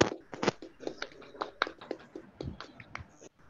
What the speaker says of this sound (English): we have a huge round of applause for Raj